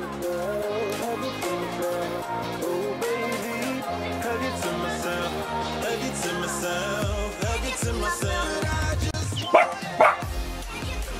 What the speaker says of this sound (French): Siama aboie parce que Capucine ne veut pas jouer avec elle